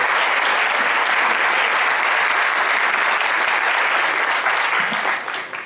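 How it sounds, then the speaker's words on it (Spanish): A conference audience applauds warmly after a lecture on reform of the Church, sustained even clapping that holds strong throughout and begins to thin out only at the very end. "Un aplauso apasionado"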